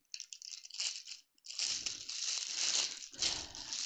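Plastic packaging around Star trinket box resin molds crinkles and crunches up close, in loud rustling bursts with a brief pause before a longer stretch of continuous crackling.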